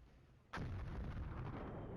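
Artillery fire in the Flashpoint Campaigns: Red Storm war game, a single sudden heavy blast that opens into a loud, sustained rumbling roar lasting to the end.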